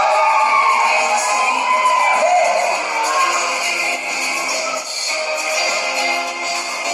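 A loud, sustained crowd cheering and shouting at a 50th birthday celebration in a Filipino venue, dense continuous hollering with high-pitched voices, close and energetic throughout.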